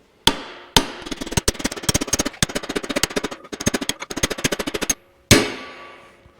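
A homemade tool made from a vehicle axle shaft is hammered while working on an International Harvester 1086 wide front axle: two separate strikes, then a rapid run of sharp metallic blows, a pause and one last ringing hit.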